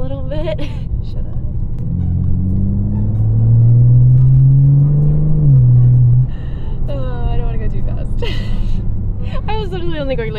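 A dirty car's engine is revved hard, rising into a loud, sustained roar for a few seconds before dropping back to a low idle, with a person talking before and after.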